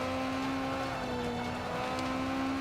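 A race car in Forza Motorsport 5 downshifting into a turn on track, a steady droning engine whine held close and loud, with no talk over it.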